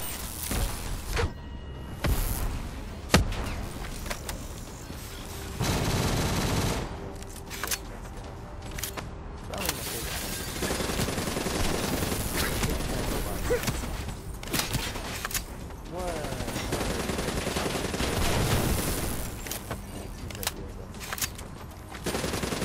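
Gunfire in Black Ops 3 fills a dense combat mix, with steady rattling bursts and sharp shots throughout, loud and continuous, under occasional talk.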